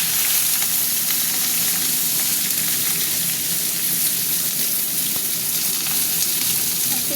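Whole cumin seeds crackle and sizzle in hot oil for a vegetarian pointed gourd curry, a steady close-up frying hiss that runs evenly throughout with no talking.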